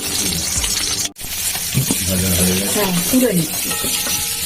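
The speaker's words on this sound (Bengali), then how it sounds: "পনিরগুলো হালকা করে ভেজে নিচ্ছি" Paneer pieces fry lightly in a pan with a close, steady sizzle, while a person talks over the cooking throughout.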